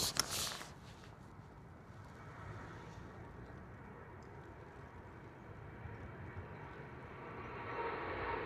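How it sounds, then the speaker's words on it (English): A Ryanair airliner departing Manchester Airport on a windy early morning, a distant, steady jet engine roar that swells slightly toward the end, faint and continuous under wind noise. "Next departure will be a Ryanair, I think, off to Krakow."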